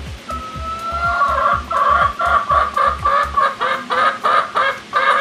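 Chickens cluck nearby, loud and close, opening with a drawn-out call and settling into a steady run of rhythmic clucks over low rumbling noise.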